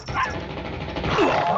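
Dogs bark and yip in Call of Duty Mobile multiplayer gameplay, a short burst of close, sharp barks over game noise with no speech.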